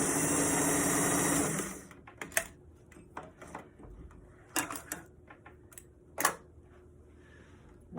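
A sewing machine stitches the ends of a fabric bucket hat, a dense fast rattling hum running for under two seconds before stopping, followed by a few sharp clicks and handling knocks of the cloth.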